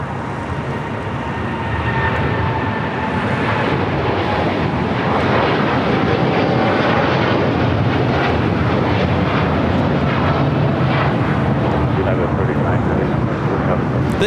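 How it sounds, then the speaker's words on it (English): A United Boeing 787-10 Dreamliner takes off, its engines a loud, steady roar that swells after the first two seconds and holds broad and sustained, with faint voices underneath. "39 taking off to Tokyo Haneda on a 787-10 Dreamliner"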